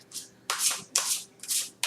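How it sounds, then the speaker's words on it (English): Tarot cards being shuffled by hand, four loud riffling bursts in a steady rhythm, close and clear with no talk over them. "Hope you can hear me over the shuffling."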